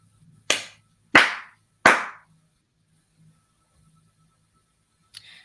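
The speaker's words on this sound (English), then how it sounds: "So I'm going to clap 3 times" Three sharp hand claps, evenly spaced about two-thirds of a second apart, loud and close in a quiet room, followed by a brief faint rustle.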